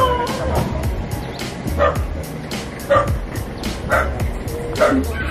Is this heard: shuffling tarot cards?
no